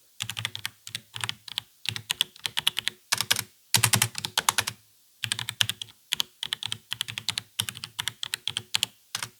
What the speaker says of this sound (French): On retrouve ici le fameux bruit des switches mécaniques, ce claquement culte qui plaît à beaucoup de joueurs.